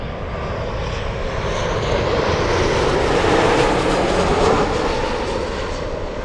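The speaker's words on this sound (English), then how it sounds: "Goodness gracious, we have Sun Country on short final." Sun Country airliner on final approach to land at Anchorage airport, a broad engine roar that swells toward the middle as it passes near and then eases off, heard alone.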